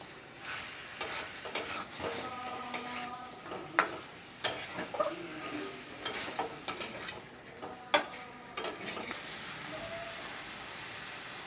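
Chicken and potato pieces sizzle and crackle in hot oil as they are sautéed with spices in a pan, with repeated scraping stirs and spatula knocks over a constant frying hiss.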